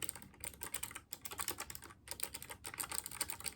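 Rapid mechanical keyboard typing with blue switches on a Keychron board, a dense run of sharp, clicky keystrokes close to the mic with brief pauses between bursts, no voices.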